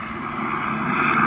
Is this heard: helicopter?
yes